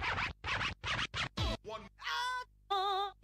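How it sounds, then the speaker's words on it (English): A Yamaha PSR-170 home keyboard fires off its built-in DJ sound effects: a run of short, loud scratch-like bursts gives way to swooping tonal sweeps and warbling synth tones, each effect separated by brief gaps, with no talking. "this is where the classic Yamaha set of DJ sounds comes into play. I'll just play you through some of these sound effects."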